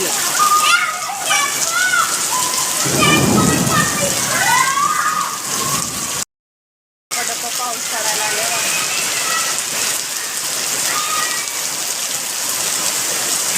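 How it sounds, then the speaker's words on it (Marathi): Heavy rain pours steadily, a dense hiss of drops splashing on surfaces close by, continuing throughout with a brief gap, while people talk over it. "लय पडतोय पाऊस"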